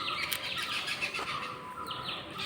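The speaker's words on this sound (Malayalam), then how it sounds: "കിളികളൊക്കെ പറന്നു പോകുന്നു കേട്ടോ വൈകിട്ട് അവരുടെ കൂടും തേടി പോവാണ്" Many birds chirp and call in a busy evening chorus as they fly home to roost, with steady overlapping tweets throughout and no voices.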